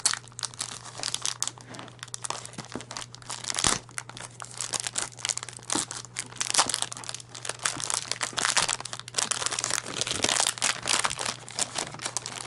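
Crinkly dotted wrapping paper peeled and torn away from a gift box from the Blind Wood Turner, a continuous close rustling and crumpling that goes on for several seconds over a faint steady hum.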